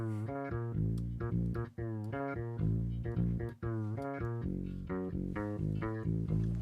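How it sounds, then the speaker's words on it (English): Dry synth bass on its own with every layer and effect stripped away, playing a steady, loud line of sustained, harmonically rich notes with a few short breaks between phrases. "if I take these all away, all the layers, the bass sounds like this"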